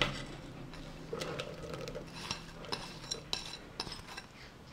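Apple pieces dropped into a bowl of thick pancake batter, giving soft, faint clinks and light scraping taps against the bowl in an irregular patter.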